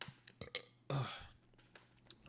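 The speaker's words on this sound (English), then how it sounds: "oh fuck, fucking burps." A loud, drawn-out burp rumbles up close amid a few small mouth clicks and breaths, with no talking over it.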